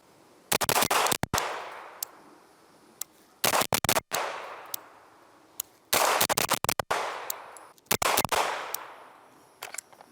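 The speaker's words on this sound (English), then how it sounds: "just so you can see how little the gun actually moves under rapid fire circumstances." Sig Sauer MPX pistol-caliber carbine fired in four fast bursts, each a close, loud string of cracking shots separated by brief pauses.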